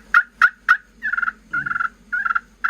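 Played close and alone, a turkey pot call gives three sharp clucks, then rolling, rattling purrs in short bursts.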